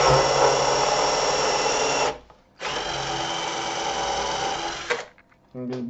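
A power drill with its bit boring through the plastic casing of a computer monitor whines loudly and steadily in two long bursts separated by a short pause, with a brief clatter and restart at the end.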